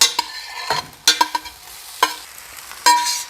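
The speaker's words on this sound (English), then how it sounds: "Go ahead and add in the drained pasta." Drained pasta tumbling into a pan of sizzling vegetables for chicken pesto pasta, with several sharp stirring and scraping bursts over a steady frying hiss, close and fairly loud.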